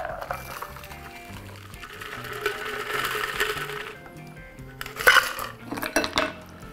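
Sloe gin cocktail fine-strained from a shaker into a glass, with metallic clinks and rattles of strainer and tins plus a thin liquid pour, close and fairly loud.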